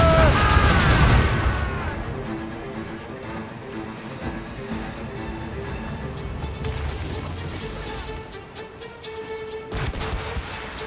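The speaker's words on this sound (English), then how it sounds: "Enemies firing! They have too much firepower!" Naval cannon fire in Assassin's Creed Rogue, a loud booming volley up front that fades into rumbling battle noise, with another burst of blasts near the end.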